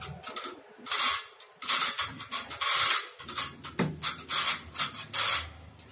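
A screwdriver grinds and scrapes as wire terminals on a Theben timer are tightened, several rough bursts of rasping metal work close by with short pauses between them.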